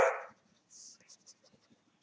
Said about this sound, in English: that dog will go full on just barking at the world type stuff